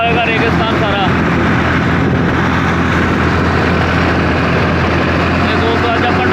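A tractor drives along a desert road on the way to a village, its engine giving a steady, loud low rumble throughout while people talk over it.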